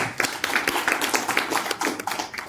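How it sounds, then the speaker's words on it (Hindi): Audience at a Dehradun Bar Association gathering breaking into applause, a dense spread of claps sustained steadily for a couple of seconds at moderate loudness, with no talk over it. "इन दोनों के लिए तो ताली बजाओ।"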